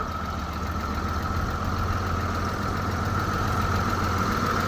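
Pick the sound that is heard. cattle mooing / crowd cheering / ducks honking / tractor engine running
tractor engine running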